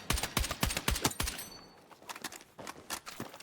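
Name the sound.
carbine gunfire in the video game Battlefield 6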